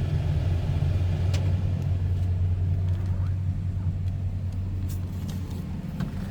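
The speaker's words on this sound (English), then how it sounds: "That slant 6 smooth running engine." A 1965 Plymouth Belvedere sedan's slant-six engine idles smoothly with a steady low hum and light rumble, while a voice speaks briefly over it.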